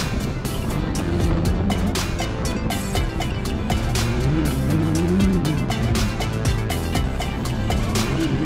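A small race car drives at speed in strong wind, its engine a steady, loud drone with occasional tire noise, unbroken for the whole stretch and with no talking.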